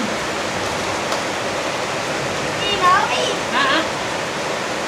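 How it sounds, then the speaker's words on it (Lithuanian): Heavy tropical downpour in Lombok, heard as a dense, steady hiss of pouring rain that fills the whole clip. Faint chirps rise briefly near the end. "Čia ne šiaip lyja, čia nežinau, metinis kritulių kiekis iškrito."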